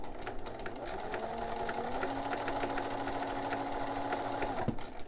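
A home sewing machine runs steadily for about five seconds, stitching a romper mock-up at a constant hum before stopping abruptly, with no talk over it.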